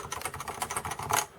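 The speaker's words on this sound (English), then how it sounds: "I brought another Topre keyboard out in here" Quick burst of close typing on a Cooler Master Nova Touch keyboard with Topre switches and custom keycaps, soft rounded keystrokes in a fast uneven run.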